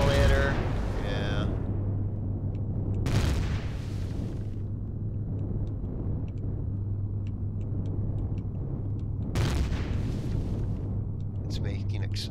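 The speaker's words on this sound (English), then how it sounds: "That's what all those explosion noises are." A structure self-destructs in the game Empyrion - Galactic Survival, with several separate booming explosion bursts over a steady low rumbling drone, spaced a few seconds apart.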